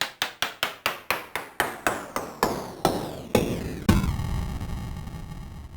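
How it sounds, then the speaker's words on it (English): Gritty, crunchy 8-bit drum samples at 27 kHz, pitched down step by step: around ten sharp hits spaced progressively wider, each ringing longer and lower, ending in a sustained noisy, distorted tail, with no talking. "It's going to sound much grittier and crunchier."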